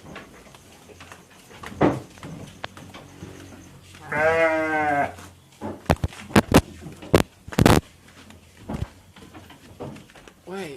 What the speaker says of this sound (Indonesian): Kambingnya juga ada, kambing BE itu etawa.